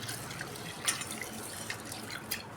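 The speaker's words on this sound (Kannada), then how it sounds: "ನಾನು ನೀರು ಹಾಕಿ ಒಂದು ಮೂರು ಸಾರಿ ತೊಳ್ಕೊಂಬರ್ತೀನಿ ರೀ ಚಲೋತ್ನಂಗೆ ತಿಕ್ಕಿ ತಿಕ್ಕಿ ತೊಳಿರಿ" Water drips and splashes softly as gatti soppu greens are rinsed and rubbed by hand in a vessel, faint, close sloshes with a few sharper drips and no talking.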